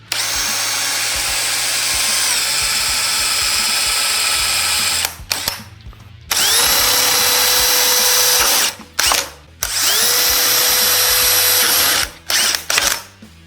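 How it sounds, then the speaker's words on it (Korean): A power drill fitted with a dual-purpose bit bores into a thick solid acrylic block, whining loudly in long sustained runs with pitch shifts under load, broken by short stops and stuttering restarts near the end. "블랙불은 아크릴의 구멍을 뚫을 때 더 장점이 발휘가 된다고 하는데 아크릴도 준비해봤습니다"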